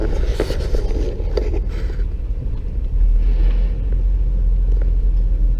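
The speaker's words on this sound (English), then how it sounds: "when it bogs like that, it means you need to either be going faster or use a different gear" A manual-transmission car bogs down in second gear at low speed, giving a steady, loud, deep engine rumble with wind buffeting, and no voices.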